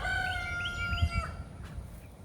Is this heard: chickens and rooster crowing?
yes